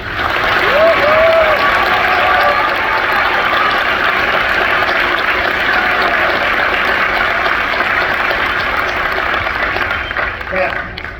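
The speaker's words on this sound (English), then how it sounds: "Everyone, please join me in giving them a round of applause for their incredible work." A crowd applauds newly graduated basic military training trainees at an outdoor ceremony, steady broad clapping over a long stretch with faint voices mixed in.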